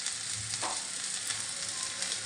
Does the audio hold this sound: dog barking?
no